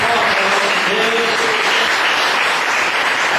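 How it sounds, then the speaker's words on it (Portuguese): Church congregation at a Brazilian evangelical anniversary service breaks into loud, dense, sustained applause that fills the whole stretch without pause. "Dê um aplauso."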